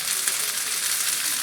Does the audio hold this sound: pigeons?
no